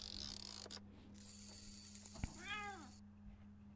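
A cat meows once in a Christmas Adventure: Candy Storm hidden-object game, a clear drawn-out call after a click, set over a steady low game hum and faint mechanical ticking.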